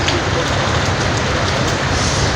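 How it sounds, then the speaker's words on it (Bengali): Steady, dense rain falls with a constant broadband hiss and low rumble, continuous throughout with no pauses. "কারণ সকাল থেকেই বৃষ্টি"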